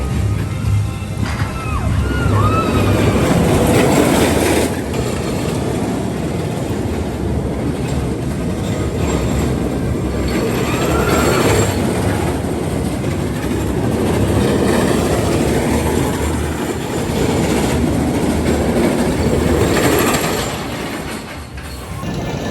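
A roller coaster train at Six Flags Fiesta Texas rumbles steadily along its track for about twenty seconds, loud and close, with a brief faint voice near the start.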